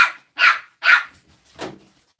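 A French bulldog puppy barks four times in short, sharp yips, close and fairly loud, with quiet gaps between them and no talking.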